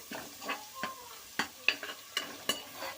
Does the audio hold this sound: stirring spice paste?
yes